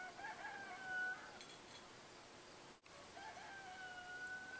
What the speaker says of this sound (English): there's a rooster in the background